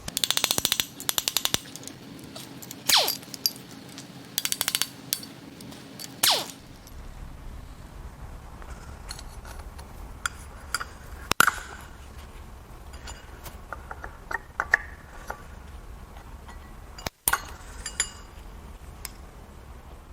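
Hand tools work on the crank pulley of a BMW N63 4.4-litre twin-turbo V8 during an engine teardown, with loud ratchet bursts early on, then scattered metallic clicks, clanks and tool handling at close range.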